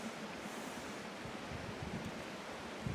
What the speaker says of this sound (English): Very windy, but barely moving.